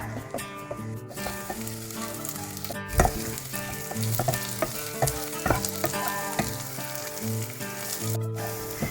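Masala with turmeric powder sautéing for a Kerala-style chicken liver fry, a steady close sizzle of frying oil broken by spatula strokes and clinks against the pan, with music playing underneath.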